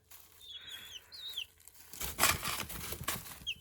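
Young chicks chirp and cheep softly nearby, followed by a burst of wing flapping and scuffling, with faint peeps continuing.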